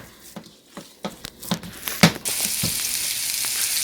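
Meatballs for Salisbury steak brown in a frying pan, starting with scattered crackling pops and spits that swell into a dense, continuous sizzle, close and moderately loud.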